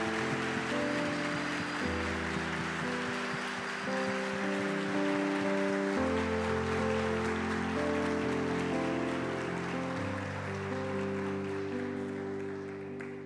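A church congregation applauds steadily over sustained organ or keyboard chords that change every couple of seconds. The clapping forms a continuous rain-like wash throughout.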